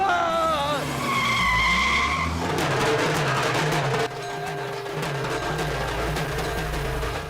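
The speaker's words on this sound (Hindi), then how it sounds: "अरे भैया गाड़ी रोको, रोको भैया गाड़ी रोको।" Tires squeal loudly as a car skids hard to a stop in a Hindi-dubbed South Indian action film scene, the screech running several seconds over engine rumble while voices shout urgently.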